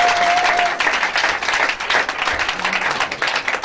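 A church congregation at a Sunday service applauds, with dense, sustained clapping from many hands filling the room and a faint voice underneath.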